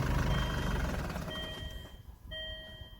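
Steady, high electronic ignition warning beeps from a Land Rover Freelander 2 dashboard chime in two bursts over a low engine-like rumble that fades.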